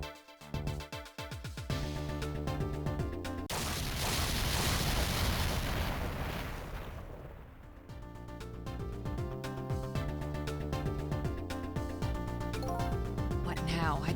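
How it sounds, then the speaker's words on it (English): A video-game explosion in Ghost Trick: Phantom Detective, a sustained roaring burst of noise lasting several seconds in the middle, set against game music with a speaking voice around it. "I think I heard an explosion somewhere"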